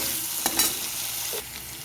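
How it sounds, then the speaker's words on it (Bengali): Potato pieces frying in hot oil in a pan while cooking a vegetarian moong-and-pointed-gourd kalia, giving a steady close sizzle with brief stirring scrapes partway through. "এবারে দিয়ে দিলাম আলুগুলোকে একটু লাল করে ভেজে নেব"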